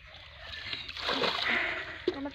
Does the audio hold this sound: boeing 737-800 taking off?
no